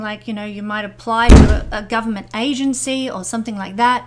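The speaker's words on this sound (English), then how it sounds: "sorry about the door banging in the background" A door bangs once, loud and broadband, in the background behind a person speaking steadily, with a low hum running throughout.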